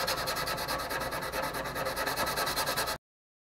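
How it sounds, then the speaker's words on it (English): A guitar kit body is hand-sanded with 220 grit sandpaper, quick rhythmic back-and-forth strokes, close and steady for about three seconds before cutting off. "Whatever I did with my 220 grit sandpaper, and here we go."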